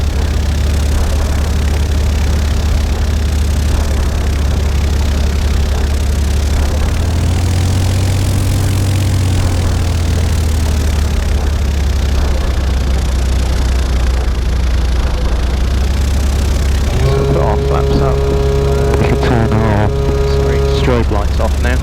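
Light aircraft taxiing off a runway after landing, its steady engine and propeller drone continuous and close throughout, with a brief rise in pitch midway and tonal avionics or cockpit sounds near the end, while a pilot talks over it.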